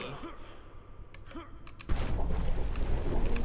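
A heavy grenade launcher blast in the modded video game Turok hits suddenly, followed by a dense, rumbling roar of noise that carries on loudly to the end.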